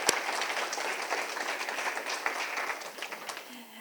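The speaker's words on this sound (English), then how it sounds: "I'd really like to give a clap out to our staff" Audience applause fills a ward community meeting room, a steady burst of many hands clapping that thins out and fades toward the end.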